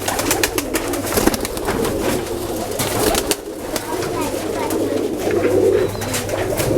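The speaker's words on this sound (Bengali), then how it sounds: "এটা কি রানিং হ্যাঁ রানিং কবুতর এগুলো" Running pigeons kept by a breeder coo softly and repeatedly close by, a low burbling that carries on under ambient noise and occasional voices.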